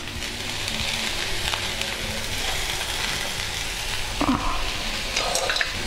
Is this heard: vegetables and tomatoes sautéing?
yes